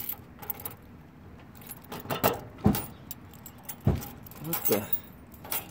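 Tryout keys jangle and clack while being worked into the ignition of a Genie man lift, a few close metallic rattles with sharp clinks, and someone briefly speaks.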